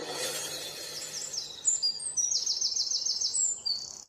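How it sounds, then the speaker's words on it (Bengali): Cartoon birds chirp in a quick series of bright, high tweets, rising and repeating close by after a softer start, with no talk over them. "যা যা পাখি উড়ে গেল।"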